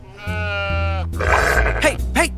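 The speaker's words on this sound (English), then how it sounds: "Hey, stop threatening my sheep." A sheep bleating in an animated cartoon, one long wavering bleat followed by rougher, grunting bleats, loud and close, with a voice mixed in near the end.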